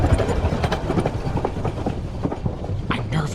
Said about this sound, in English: the sound from the passing of another train woke the inspector